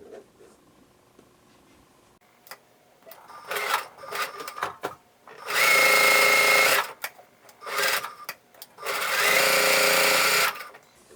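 Sewing machine stitching a beginner quilt star block on both sides of a drawn line, heard in two loud sustained runs of steady whirring with short bursts and clicks between them, near and with no talk.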